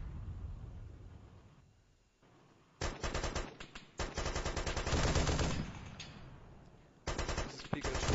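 Bursts of video game gunfire ring out in a team shooter match, an opening volley around the middle followed by a longer stretch of rapid, loud shots and a final burst near the end.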